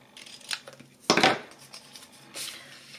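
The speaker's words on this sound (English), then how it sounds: "So I'll just cut it up and there as well." Scissors snip through card to form a box glue flap: a few close, crisp cuts, one louder snap in the middle and a softer one near the end.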